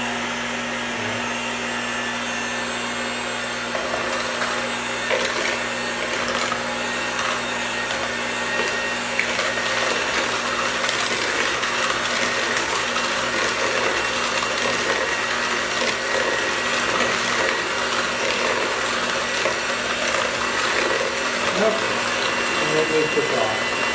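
Electric hand mixer whirring steadily at its slowest setting, a continuous low motor hum with a constant buzz and some scraping as the beaters work a no-bake pumpkin pie filling.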